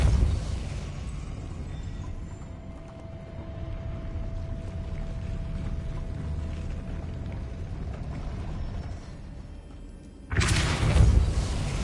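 A magical Depulso force spell in Hogwarts Legacy erupts as one loud, close burst near the end, after a long stretch of low rumbling game ambience with a faint steady hum.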